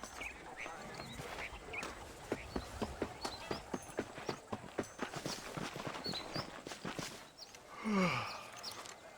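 Horse hooves clip-clopping in the video game Red Dead Redemption, a steady run of fairly quiet hoofbeats at a walking pace, followed by a brief higher call near the end.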